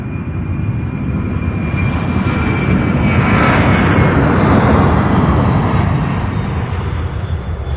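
A UPS cargo jet takes off from runway 17 right at Louisville's UPS Worldport, its engines a loud, steady roar that holds broadband and swells slightly midway through, with no talk over it.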